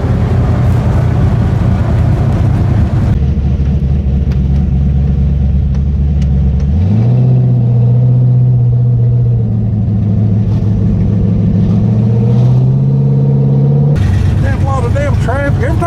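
Turbocharged street car engine revving and pulling while driving in traffic, a loud steady drone that rises in pitch partway through and climbs again near the end, with speech over it.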